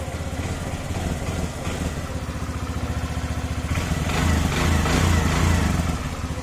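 A Suzuki Burgman automatic scooter engine runs steadily up close, a continuous mid-pitched drone with a slight rise in intensity partway through and no talking.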